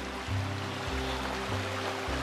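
Steady broadband rush of a small river flowing beside a dispersed camping spot, continuous and fairly close, with a faint low engine-like hum underneath and no talking.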